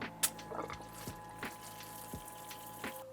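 Shower water runs from the pump-fed shower in a Siesta California camper van, a steady trickling flow with a few sharp drips and clicks, heard close with a faint hum underneath.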